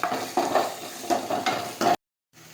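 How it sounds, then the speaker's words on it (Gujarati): Cumin seeds sautéing in hot oil for a brinjal bharta, with a steady crackling sizzle broken by repeated stirring scrapes of a spoon in the pan, then a brief cut to silence. "હવે આપણે જીરું નાખીશું. હવે આપણે સાતળી લઈશું."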